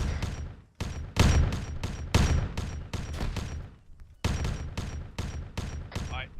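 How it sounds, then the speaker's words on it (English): Warhammer 40k battle: loud, close bursts of gunfire and blasts, including a grenade explosion, come in rapid clusters separated by short gaps, with voice chatter mixed in. "Grenade, grenade!"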